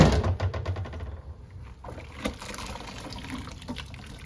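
Hot water running and trickling down a kitchen sink drain in a home kitchen, a faint uneven splashing and gurgling with a few clicks and knocks, and no talking.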